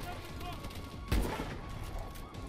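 In Call of Duty: Advanced Warfare, a single sharp gunshot cracks out midway through an otherwise low, murky game background.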